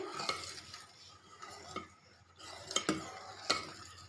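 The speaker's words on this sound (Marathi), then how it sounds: "आता याच्यामध्ये वेलची पूड टाकायची वेलची पूड मिक्स करून घ्यायची" A spoon stirs cardamom powder into thickened milk for homemade rajbhog ice cream, making soft, close scraping swirls punctuated by several sharp metallic clinks against the pan, with no talking.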